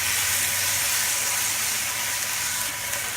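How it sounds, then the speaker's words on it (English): Meatballs browning in a hot pan give a loud, steady sizzle and hiss that runs without a break, with no voices over it. "browning meatballs"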